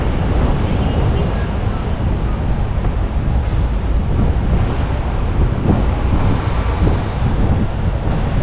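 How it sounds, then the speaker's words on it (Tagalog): Strong wind battering the microphone outdoors, a loud, unbroken roar of buffeting gusts with no pause. "Lakas ang hangin."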